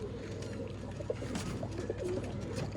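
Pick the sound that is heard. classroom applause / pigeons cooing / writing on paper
pigeons cooing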